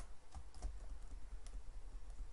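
Soft keystrokes on a computer keyboard, several scattered taps at an irregular rhythm, faint and close against a low background hum.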